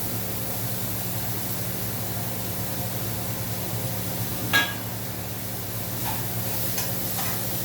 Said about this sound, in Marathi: मीठ टाकल्याच्यानंतर हलवून घेऊन आपण कोथिंबीर सोडायची.